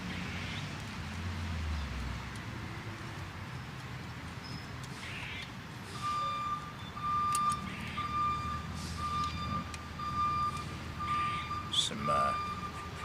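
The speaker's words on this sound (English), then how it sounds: "delivery vehicle. You're gonna hear some beeping for a little while." A delivery vehicle's reversing alarm beeps in an even, repeating series from a moderate distance, starting partway through over a low rumble of outdoor background, with someone talking at times.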